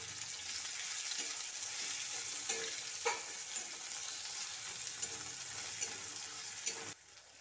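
Garlic and ginger paste with slit green chilies sizzles in a pan of oil for peas kofta curry while being stirred, a steady close frying hiss broken by soft scrapes of the spoon.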